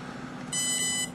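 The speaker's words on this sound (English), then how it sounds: "5 double beeps for hard timing" A single sharp electronic beep from an Otter ESC being programmed for hard timing, bright and tonal, lasting about half a second over a low steady hum.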